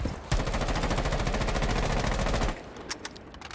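Rapid automatic gunfire from a weapon in the video game Rainbow Six Siege, fired in one sustained, loud burst for about two seconds, then stopping to leave a few faint clicks and game sounds.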